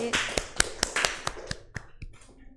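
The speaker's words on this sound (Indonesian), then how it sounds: "Tepuk tangan untuk Mas Rizky." A few sparse, sharp claps scattered irregularly across a classroom, each crisp and separate rather than a full round of applause, fading slightly toward the end.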